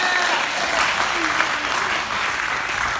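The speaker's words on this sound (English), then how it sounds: "Everybody give a round of applause for that." Audience applause in a Christian school chapel: a steady, dense round of clapping from a crowd, loud and close, lasting the whole few seconds.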